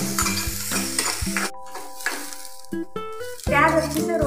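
Spices with coconut pieces, ginger and garlic roasting in a hot pan, with a spatula scraping and clattering in bursts over a steady sizzle, close and fairly loud, then a brief lull before stirring resumes.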